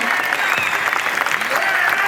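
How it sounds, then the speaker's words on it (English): Crowd of protesters applauding loudly and steadily outdoors after a chant about NSW Premier Chris Minns, a dense, continuous clapping with scattered voices mixed in. "Round of applause."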